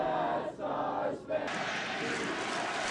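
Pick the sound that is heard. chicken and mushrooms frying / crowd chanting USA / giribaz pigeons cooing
crowd chanting USA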